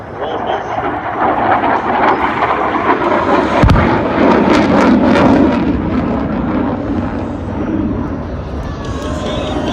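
Bomb explosions from an airstrike, a heavy blast with a sharp low-frequency onset partway through, set within continuous loud aircraft engine roar and rumbling noise.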